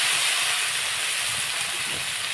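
Boiled jackfruit tipped into hot oil and fried spice paste gives a loud, steady steaming sizzle, a broad continuous hiss with no pauses and no voices.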